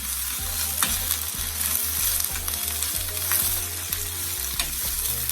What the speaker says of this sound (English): I'm just gonna give that a stir now